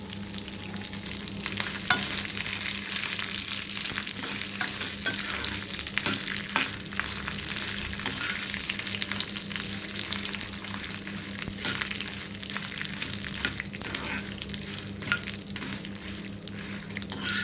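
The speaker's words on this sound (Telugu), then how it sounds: "దాంట్లో మిరపకాయలు వేస్తున్నాను" Dried red chillies frying in a pan for a nut spice powder, a dense continuous sizzle with frequent stirring scrapes, close and steady throughout.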